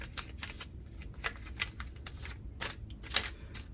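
Paper being folded for a paper airplane wing: soft crisp crinkles and sharp creasing snaps in quick irregular bursts, close and quiet, with no talking.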